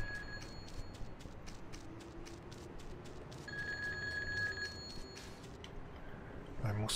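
A telephone ringing in the PC game Grand Theft Auto 2, a rapid repeating electronic trill in regular bursts, fairly quiet under faint game background noise, with a sustained tone midway.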